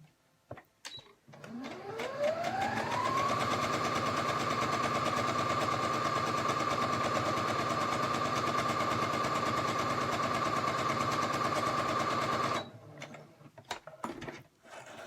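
A sewing machine stitches doll clothes in one long continuous run, its motor rising in pitch as it speeds up and then humming steadily before stopping, close by and fairly loud.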